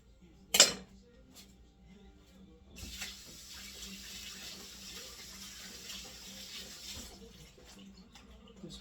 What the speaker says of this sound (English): Just wash my hands pretty good.